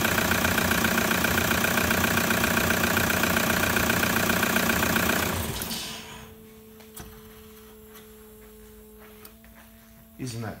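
A car engine idles with a steady, even rumble for several seconds, then shuts off, leaving near silence with faint hum and a small clatter at the end.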